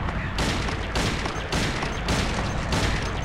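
Gunfire in the horror video game Silent Hill 2 comes as about five loud, evenly spaced shots roughly half a second apart, each with a sharp attack and a brief decay.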